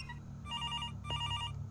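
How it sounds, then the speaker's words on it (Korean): A telephone in the Thai horror video game Araya rings in two short electronic bursts with a brief gap between them, faint and clear with no talking. "따르릉 따르릉 전화 왔어요."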